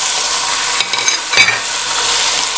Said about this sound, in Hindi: ये जो चिकन है मैंने यखनी के अंदर से निकाल के रख ली है, तो ये इसके अंदर ऐड कर देंगे।